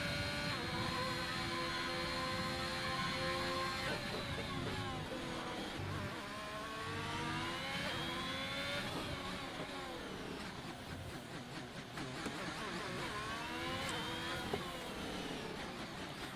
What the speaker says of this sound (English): We've got the Alfa Romeo coming down on his flying lap with DRS activated.